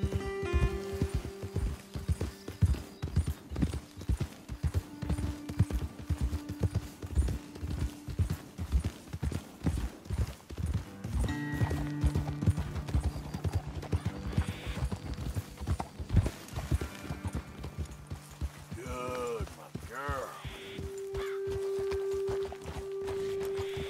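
Horses in Red Dead Redemption 2 trotting and galloping on hard ground, a steady run of loud, close hoofbeats with occasional snorts and a neigh near the end, set under game music and ambience without talk.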